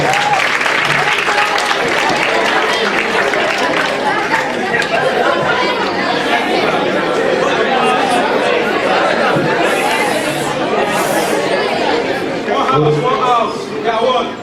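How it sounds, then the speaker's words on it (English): Audience applause at a peace education event in a Kaduna school, a dense sustained wash of clapping from a large crowd lasting the whole stretch, with chatter and voices mixed in throughout. "Please, a round of applause for that question."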